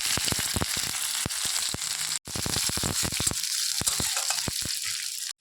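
Chopped onion and panch phoron fry in hot mustard oil in a kadai, a close, crackling sizzle with sharp pops and spits throughout.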